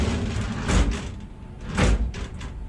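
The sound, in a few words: doors of Fryer CM-15 Siemens control mill opening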